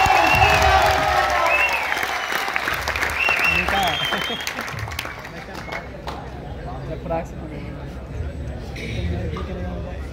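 A large student audience at a NEET guidance event in Kota gives loud, sustained applause to welcome a speaker. The clapping is dense and steady throughout, with crowd noise and scattered whistles and cheers mixed in, easing slightly toward the end.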